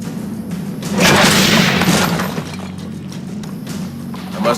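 Cannon firing in the Assassin's Creed Brotherhood video game, a heavy booming blast around the first second that rolls into a rumbling decay, with further dull thuds and background clatter.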